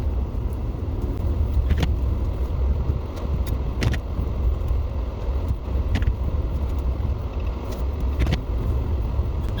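A Jeep Gladiator drives through snow with a steady low engine rumble and road roar heard from inside the cab, broken by occasional small clicks and rattles, with no talking.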